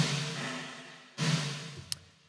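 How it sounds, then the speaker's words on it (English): Snare drum hits processed through a Valhalla reverb on its snare plate preset, fully wet, giving two loud, bright strikes with a long, wide plate tail that fills the lows and highs. "And the first thing that I'm adding is Valhalla reverb again,"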